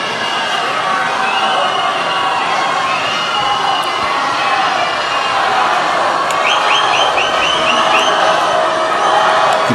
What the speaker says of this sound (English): You can hear the crowd getting excited over this one.